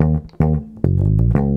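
Electric bass guitar plays the opening phrases of a funk riff, a handful of plucked low notes with bright attacks, close and upfront, without any talking.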